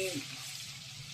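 Ginger, garlic and green chili paste sizzles and spatters steadily in hot oil in a pan for chole, a dense continuous frying hiss with no talk.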